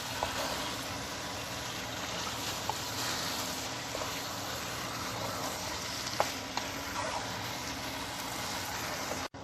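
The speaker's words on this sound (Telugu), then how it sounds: "దీంట్లో ఇప్పుడు మనం మ్యారినేట్ చేసి పెట్టుకున్న చికెన్ని వేసేద్దాం." Marinated chicken frying in a pan with tomatoes and onions for chicken curry, a steady broadband sizzle running throughout with occasional soft scrapes and knocks from stirring, close and continuous.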